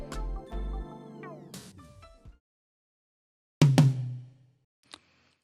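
Several dry, unprocessed MIDI tom hits, a quick run of strikes then a pause and another pair of hits, followed by a faint tap; close and clean, with no voice.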